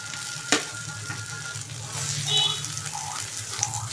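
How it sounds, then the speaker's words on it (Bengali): Chopped tomato hits onions frying in a pan, giving a close, steady sizzle with a few clinks and stirring sounds over the short stretch. "এবার এর মধ্যে দিয়ে দিচ্ছি টমেটো কুচিটা"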